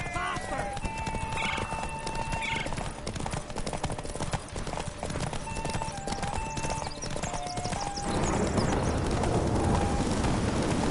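Horses in a video game race clip-clop steadily and whinny a couple of times close by, amid game ambience with voices speaking over the hooves.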